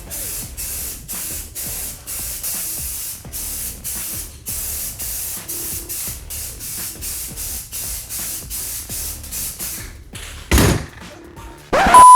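A spray paint can lays down a metallic silver base coat in a long series of short, crisp bursts of hiss with brief gaps between them. A couple of thumps and a louder burst come near the end, and no one speaks.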